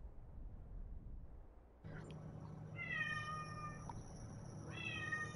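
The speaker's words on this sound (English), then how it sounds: "She's starting to meow, you can probably hear her." A pet cat meows in a few drawn-out, rising calls, close and fairly clear, over a steady room hum with no talking.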